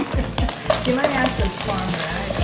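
Eggs for Thai shrimp basil fried rice are scrambled in a hot pan, a loud close sizzle with repeated scraping strokes of a spatula.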